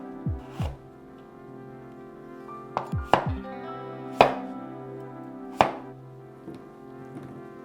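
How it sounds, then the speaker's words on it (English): Knife chopping potato pieces on a cutting board, a handful of crisp, separate thuds spaced unevenly, close and clear against a faint background hum. "basically chop at an angle and roll the potato before chopping again"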